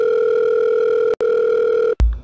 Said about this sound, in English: who is this calling my line, B? Let me pick up the phone.